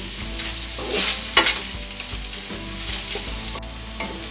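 Onions frying in white oil over a medium flame for a chicken curry, a close, steady sizzle with a few stirring scrapes and clinks, no talking.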